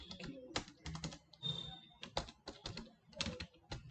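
Rapid, uneven clacking of fingers typing on a computer keyboard while entering data in Excel, close and crisp with brief pauses between bursts of keystrokes.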